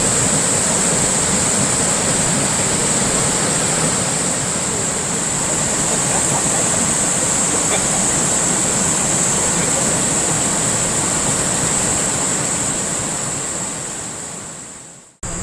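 A large waterfall on the Hantan River, swollen after heavy rain and seen from an observation deck, roars as a loud, steady wash of white noise that holds for about fifteen seconds before cutting off abruptly.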